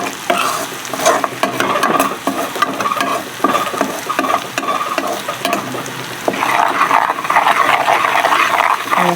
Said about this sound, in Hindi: इस मसाले को 2 मिनट तक हम अच्छे से भूनेंगे